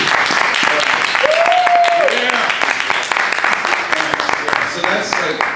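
Audience applause at a comic convention toy talk panel (Big Wow! ComicFest 2014), a steady wash of clapping from the crowd with a voice and cheers rising over it partway through.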